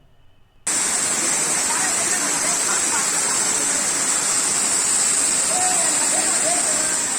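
Water from a forest stream rushes near the Champawati waterfall at Chapanala in Assam. After a brief quiet moment, a loud, continuous roar sets in and stays steady.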